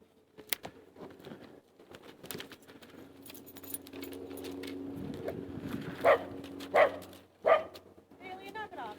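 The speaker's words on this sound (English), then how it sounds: "A little pack of dogs here." A small pack of dogs in a park near a campfire lets out several close, sharp barks in quick succession over steady background chatter and jangling.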